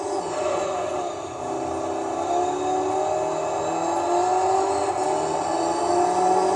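Toyota Corolla rally car engine in the Gran Turismo 3 racing game drones at steady high revs, a constant whirring roar with slight pitch rises as it accelerates, loud and continuous throughout.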